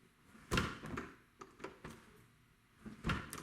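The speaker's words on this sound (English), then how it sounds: "Opens and shuts nice." An interior door fitted with a new Kwikset knob and lock is opened and shut, producing a few soft latch clicks and light thumps, quiet and close, with no talking.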